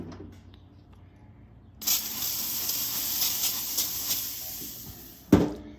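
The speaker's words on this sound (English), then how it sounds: "I'm gonna use this Weber grill spray." An aerosol can of Weber grill spray hisses in one steady burst of about three and a half seconds onto an electric grill, close and loud, ending with a sharp clunk.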